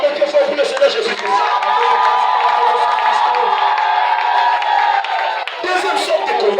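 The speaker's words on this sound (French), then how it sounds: "Acclamez très fort pour le Seigneur Jésus-Christ." Church congregation cheering and applauding loudly for Jesus Christ, a sustained mass of clapping, whoops and shouting voices filling the room and fading briefly before rising again.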